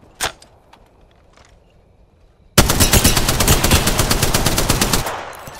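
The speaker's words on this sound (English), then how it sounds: "Getting shot at." Automatic gunfire in the Apex Legends battle royale shooter: a lone early shot, then a sustained, loud rapid-fire burst of close shots lasting about two and a half seconds before tapering off.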